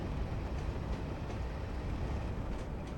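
A train passes in the Train Simulator 2021 game on the Taunton to Exeter route, a steady loud broadband rumble of rolling wagons lasting throughout with no talk.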